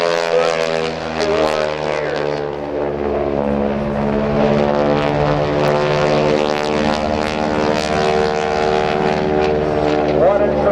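A North American Texan propeller airplane in United States Air Force markings flies at the NAS Oceana airshow, its engine droning loud and steady throughout with a rich harmonic hum.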